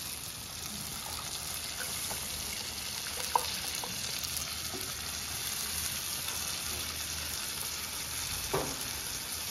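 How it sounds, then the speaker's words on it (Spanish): Pork in a two-chile sauce simmers in a pan, giving a steady, continuous sizzle and bubbling at moderate level with a couple of small clinks, and no talk. "vamos a dejar que hierva y que reduzca la salsita para que quede bien sabroso"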